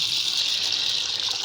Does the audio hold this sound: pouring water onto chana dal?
yes